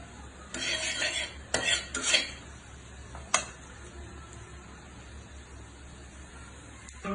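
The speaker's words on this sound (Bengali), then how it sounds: "চুলায় একটু কড়াই বসিয়ে দিচ্ছি এখন হচ্ছে তরকারিটা রান্না করে নেবো" A wok set down on a home stove while cooking an egg and pointed gourd curry, with several close, bright clatters of pots and metal utensils in bursts early on, then one sharp clink and a quiet background.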